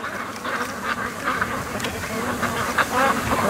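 Ducks quack in agitated bursts on a lake, a steady flurry of overlapping calls from several birds at mid distance, with no voices over them.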